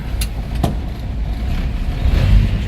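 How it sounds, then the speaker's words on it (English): A 1954 Chevrolet 3100 five-window pickup with an inline-six and automatic transmission idles steadily after a push-button start, a low continuous engine rumble with a brief rise near the end. "As you can hear, smooth running truck."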